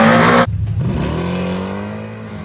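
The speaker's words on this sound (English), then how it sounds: "First nitrous pass right off the trailer," A drag car with a 421 engine makes a nitrous pass: a loud, harsh engine roar at launch drops into a sustained, rising drone that slowly fades as the car pulls away.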